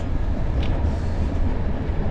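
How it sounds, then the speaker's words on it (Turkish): Inside a moving Doğu Express passenger train bound for Cappadocia: a loud, steady low rumble and rattle of the railcar rolling along, with no talk. "Tren halen daha gidiyoruz."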